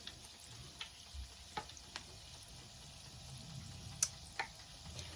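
Bofroat doughnut dough frying in oil, giving a steady low sizzle with a few soft scrapes and taps as a stick stirs it gently, fairly quiet throughout.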